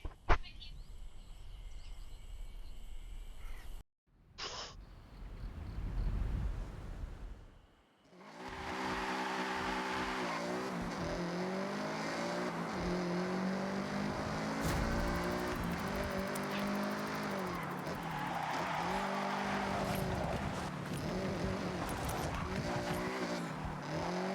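A Subaru BRZ in the Forza Horizon racing game drives with a steady, loud engine drone and shifting revs that rise and fall after a brief menu-like start, while a voice talks over it.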